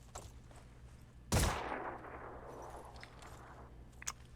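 A single sharp gunshot rings out in the Phoenix Point video game, a loud crack with a decaying tail over quiet game ambience, followed by a small click later.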